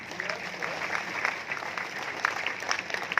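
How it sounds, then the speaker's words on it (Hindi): Loud applause from a crowd at an Indian direct-selling business event: continuous dense clapping that holds steady for a few seconds, with faint voices underneath. "इन लोगों के लिए जोरदार तालियां हो जाए सर"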